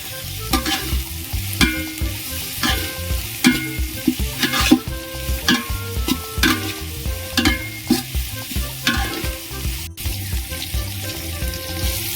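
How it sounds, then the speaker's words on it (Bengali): Bay leaves, dry red chillies and whole garam masala sizzle and crackle in hot oil for a mutton curry, a steady close fry with repeated stirring clatter and no voices. "ফোড়নে দুটো তেজপাতা দুটো শুকনো লঙ্কা গোটা গরম মশলা দেবো"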